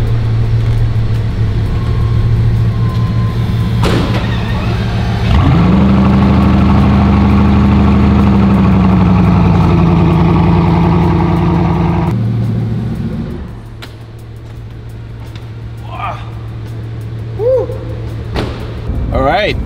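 A loud Bugatti engine runs close by, a deep steady idle that swells into a stronger revving hum for several seconds before dropping back to a low rumble, with a few brief knocks near the end.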